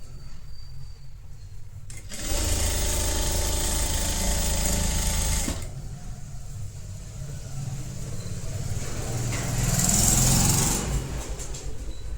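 An electric sewing machine stitches a blouse sleeve, its steady motor whir running in one sustained burst for a few seconds, then a second stretch of quieter running, with a higher whine toward the end.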